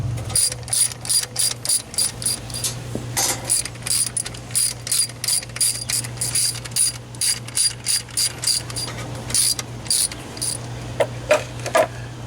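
Rapid ratchet clicking while snugging bolts on a Jeep Wrangler YJ transfer case with RTV sealant during a slip yoke eliminator install, repeated bursts of close, crisp pawl clicks over a steady low hum.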